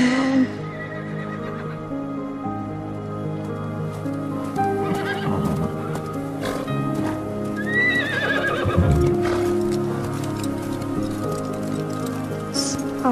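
A horse whinnies loudly, and hooves clop steadily underneath, with music playing throughout.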